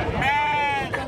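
A goat or sheep at a livestock fair in Tabira lets out one clear, wavering bleat lasting most of a second, close and loud, with crowd chatter and noise around it.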